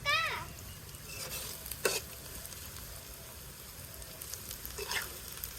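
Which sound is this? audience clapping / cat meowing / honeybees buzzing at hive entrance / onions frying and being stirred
onions frying and being stirred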